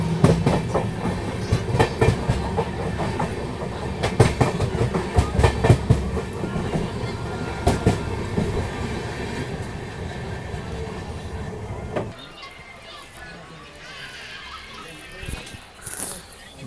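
Express train hauled by a WAG 9 electric locomotive, Mumbai LTT–Kakinada Port bi-weekly express, running with a steady rolling rumble and rhythmic wheel clatter from onboard, until the noise drops abruptly near the end; faint voices sit under the din.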